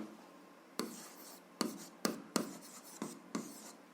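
Pen on paper while working through a 7th-grade algebra exercise: faint, close scratchy strokes come in short bursts, with about six distinct tapping stroke onsets separated by brief pauses in an otherwise quiet room.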